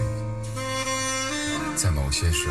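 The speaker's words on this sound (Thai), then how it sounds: "เสียงแซกมาจากด้านซ้ายค" Saxophone melody plays from the left speaker of a Mercedes-Benz W205 car stereo with 3D tweeters, a steady bass line beneath, full and clear in a small enclosed space.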